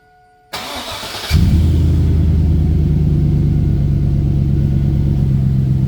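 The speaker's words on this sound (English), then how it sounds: "Muffler off in 3, 2," A 2002 GMC Yukon XL engine runs with the muffler removed. After a brief burst of hiss, a loud, steady, close exhaust rumble kicks in and holds without letting up.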